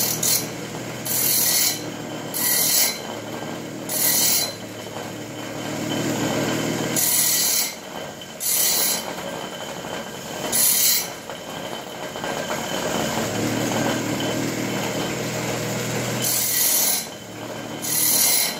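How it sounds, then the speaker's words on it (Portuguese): A bench grinder is switched on and hums steadily, with loud abrasive grinding bursts repeating every second or two, close by and with no speech. "Vou ligar aqui o meu esmeril."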